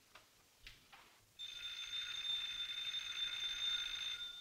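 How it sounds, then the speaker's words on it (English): Old-fashioned telephone bell starting to ring after a few soft knocks, a steady bright trilling ring that sustains to the end, heard alone and fairly quiet. "Oh, telephones"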